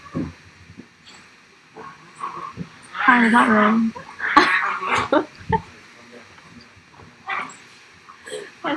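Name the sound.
dogs fighting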